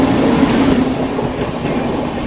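The Dakshin Express passes close alongside on a curve during a crossing, a loud continuous rumble of wheels and carriages with a faint clatter and no talk.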